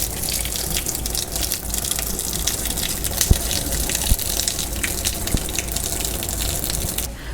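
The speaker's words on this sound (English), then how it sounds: "So turn the heat off, and we're gonna go ahead and strain it." Water poured from a pan of cooked macaroni noodles gushes into a strainer and sink in a loud, steady splashing rush lasting several seconds, close by with a few small knocks.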